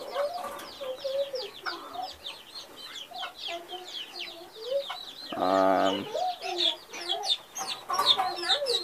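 Chickens cluck and chatter in a continuous busy flock on a farm, with a brief louder squawk or crow partway through and no talk over it.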